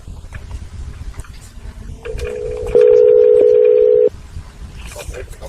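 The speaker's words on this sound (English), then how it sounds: "Let me transfer you to his phone." Telephone call being transferred: a quiet line with background noise gives way to a steady electronic hold tone that rises louder for over a second before cutting off abruptly.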